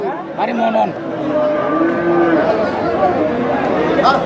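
Large bullocks lowing at a busy outdoor cattle market, with people chattering and calling around the animals throughout.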